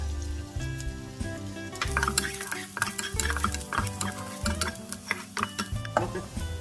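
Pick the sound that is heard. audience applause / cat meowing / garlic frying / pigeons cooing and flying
garlic frying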